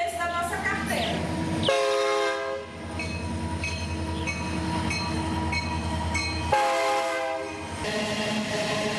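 A loud freight train horn sounds in several long blasts as a warning at crossings, with a pause between groups, over the rumble of a passing train.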